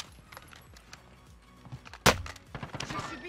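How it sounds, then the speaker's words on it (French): A single sharp gunshot cracks out midway through a Call of Duty Warzone match, standing out loudly against faint game ambience and scattered movement noises. "il vient de me tirer une balle dans le dos"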